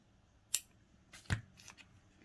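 Scissors snip sewing thread while finishing a plus-size denim blouse: two quick, close, crisp cuts about a second apart, followed by faint rustling.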